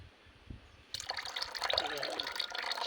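EM4 liquid poured into a banana-peel organic fertilizer mix, a steady watery splash and trickle that starts abruptly after a quiet lead-in and continues close and fairly loud to the end.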